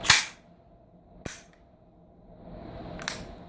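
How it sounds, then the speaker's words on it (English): An AR-15 rifle trigger is dry fired: three sharp, separate metallic clicks and snaps spaced about a second apart, close and fairly loud with quiet between them. "Fire the trigger."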